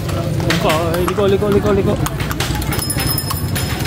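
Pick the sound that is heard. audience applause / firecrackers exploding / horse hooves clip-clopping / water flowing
horse hooves clip-clopping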